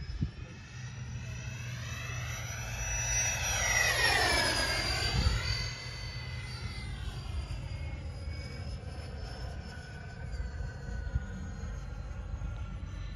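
A Freewing 80mm A-10 RC jet with electric ducted fans flies overhead. Its high-pitched whine rises and sweeps as it passes closer near the middle, then continues as a steady drone at a distance.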